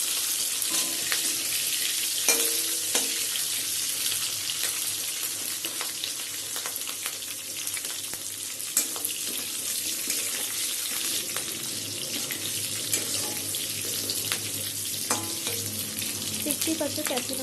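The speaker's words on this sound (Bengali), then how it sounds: "আমি এইবার এই তেলটার মধ্যে ক্যাপসিকামটা দিয়ে দেবো" Capsicum frying in hot oil in a home kitchen, a steady broadband sizzle running throughout with occasional stirring scrapes and light clinks, fairly close and without talk.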